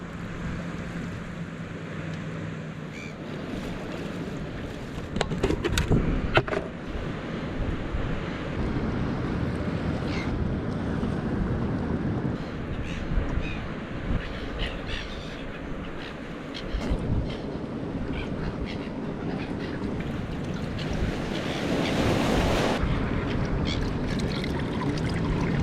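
Steady wash of waves pushing up against the shore of the Waiau River in Southland, a continuous broad rumble and slosh with scattered splashes, close and fairly loud throughout.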